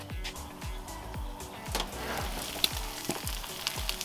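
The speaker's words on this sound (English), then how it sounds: "that cheese is getting melted" Chopped pork and cheese sizzle under the shut lid of a Red Monument 4-burner gas grill, giving a constant close frying hiss with a low rhythmic thumping pulse roughly every half second and a few sharp ticks near the end.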